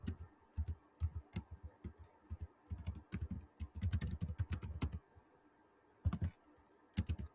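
Close, crisp keystrokes on a computer keyboard, typed in irregular bursts with a dense run of rapid clicks in the middle and short pauses between groups.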